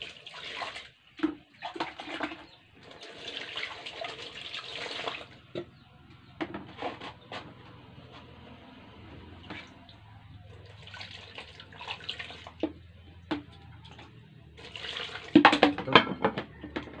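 Water splashes and pours in short bursts into a metal pot for boiling sweet corn, with clinks and handling sounds between pours, close and fairly quiet.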